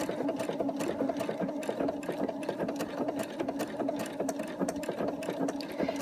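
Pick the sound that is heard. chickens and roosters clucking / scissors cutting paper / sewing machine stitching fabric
sewing machine stitching fabric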